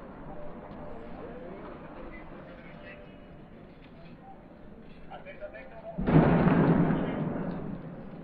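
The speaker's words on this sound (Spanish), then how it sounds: "De fondo se continúa escuchando los petardos." A distant rumbling boom from firecrackers at the end of a street march bursts out after several seconds of low background noise, then rolls and slowly fades.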